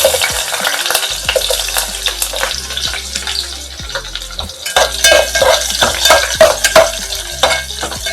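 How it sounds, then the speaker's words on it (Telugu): Onions frying in a pan for veg pulao, a lively sizzle broken by repeated spatula scrapes and stirring clinks against the pan, close and fairly loud with no talk. "ఇప్పుడైతే ఆనియన్స్ వేస్తున్నాను"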